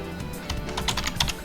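Quick keystrokes on a computer keyboard during an Inkscape tutorial, a short close run of clicky taps with the last ones louder.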